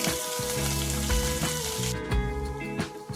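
Mustard seeds, cumin and green chillies crackle and sizzle in two tablespoons of hot oil for bread toast, a steady close frying hiss with spitting pops, heard alone.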